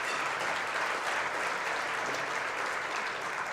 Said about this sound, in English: Give the elders a round of applause.